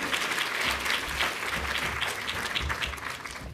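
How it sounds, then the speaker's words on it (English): An audience applauds as a panel is welcomed onto the stage at a talk on levelling up the creative nation, steady dense clapping throughout, fairly loud and with no talk over it. "Give them a round of applause,"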